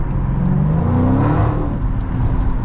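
A Dodge SRT 392 Scat Pack accelerates hard on a wet road, its engine a loud, steady rising drone close by, layered over hissing tire spray.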